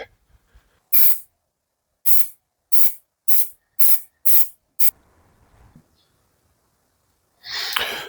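A spray gun lays base coat paint onto a 2005 Mustang V6 in seven short, sharp hissing bursts in an even rhythm, then a pause with faint rustling, and a longer spray burst at the end.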